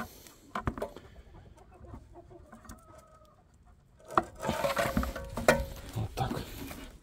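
Chickens clucking nearby, soft scattered clucks at first, then a busier stretch of overlapping clucks and rustling as several birds move about.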